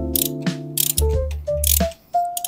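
A ratchet works a 12 mm bolt loose to drain the coolant on a Honda Click 125 scooter, giving loud, close metallic clicks and turns in uneven bursts with short pauses, some tonal ringing and no talking.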